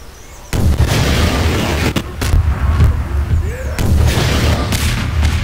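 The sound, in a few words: explosion in Garry's Mod video game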